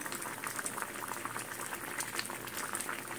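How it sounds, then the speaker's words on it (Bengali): Milk shukto, a Bengali mixed-vegetable dish simmered in milk, bubbles steadily in a pot, a close, continuous boiling burble with no one speaking. "দেখো আমি 10 মিনিট পরে এলাম, ফুটছে।"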